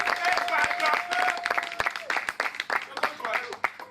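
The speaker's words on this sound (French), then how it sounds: "Les applaudissements pour Ivalmok." An audience at a slam poetry show in Togo applauds a dancer, lively clapping from a crowd with sharp individual claps, mixed with cheering voices and someone speaking over it.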